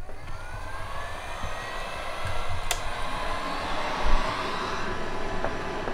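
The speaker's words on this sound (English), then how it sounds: "I've always got to have my heat gun" A heat gun runs steadily as a close, loud whooshing roar of hot air, drawing power from a Bluetti AC200P portable power station, with a brief sharp click near the middle.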